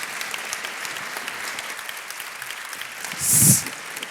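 Audience at a mentoring awards evening clapping warmly, a dense even patter of many hands throughout, with a brief louder burst near the end.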